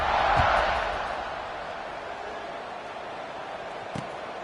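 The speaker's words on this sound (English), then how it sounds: "this crowd is buzzing after that last score" A stadium crowd in a college football video game, Clemson versus Louisville, keeps up a steady broad roar, loudest at first and then settling into a constant distant buzz.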